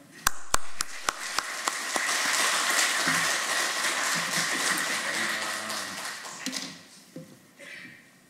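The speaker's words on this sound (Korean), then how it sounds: "큰 박수로 환영해 주시기 바랍니다." A church congregation applauds to welcome a preacher to the pulpit, sustained crowd clapping that opens with a few sharp individual claps, then fades toward the end.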